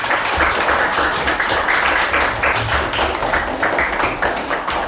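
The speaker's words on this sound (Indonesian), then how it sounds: "Tepuk tangan buat kalian." Students in a classroom clap together for several seconds at the close of a lesson, a steady dense patter of many hands throughout.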